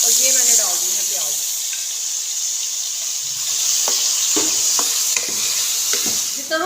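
Onion goes into a hot pan of sizzling ginger and beef for beef karahi, a steady frying hiss running throughout with a few stirring clicks and scrapes near the end.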